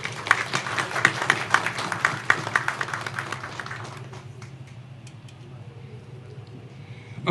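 A seated audience applauds a company's director general, a crisp burst of many hands clapping for about four seconds before fading into quiet room tone.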